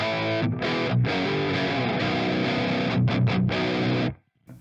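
A distorted electric guitar plays sustained, overdriven chords with a few short breaks, ringing loudly before cutting off abruptly.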